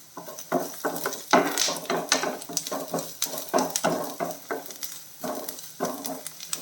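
Onions sautéing with chilies in a pan for tomato chutney, a steady sizzle under repeated scraping strokes of a wooden spoon, close and moderately loud.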